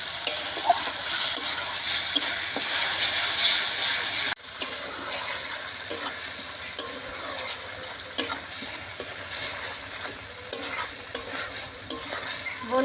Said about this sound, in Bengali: মশলাটা বেশ ভালো করে কষাতে হবে।